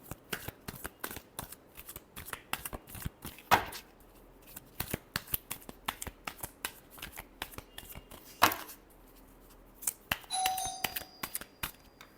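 Tarot cards are shuffled by hand in quick bursts of sharp riffles and taps, with a couple of louder slaps and a brief chime near the end.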